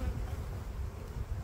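Honeybees buzz around their hives on a hot summer day, a steady, dense hum from many insects, faint and continuous with no voices.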